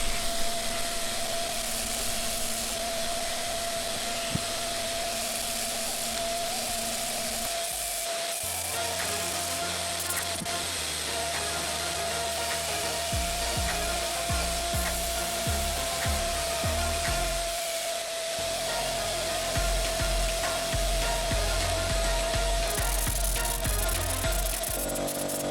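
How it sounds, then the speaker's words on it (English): A negative rake scraper smoothing a wooden bowl on a lathe, a continuous whirring hum of the spinning workpiece with rough scraping texture that shifts in intensity, no talk. "If you can get hold of one of these negative reg scrapers, they really do a fantastic job of getting any any tears out of your wood"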